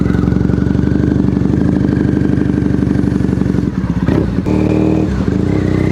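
A Triumph Bonneville T100 motorcycle engine throbs steadily and loudly as it rides around a roundabout, with a brief dip and change in tone near the end before the steady drone resumes.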